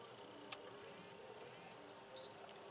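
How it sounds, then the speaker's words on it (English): A cell phone ringtone plays a short electronic melody of several high beeping notes in quick succession, fairly faint and close, with no talking over it. "there goes my cell phone"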